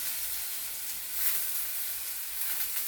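Onion fries in a pan for paneer bhurji, producing a faint, even hiss-like sizzle with no talking.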